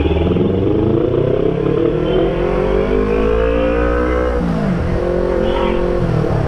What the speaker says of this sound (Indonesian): Macet guys, macet.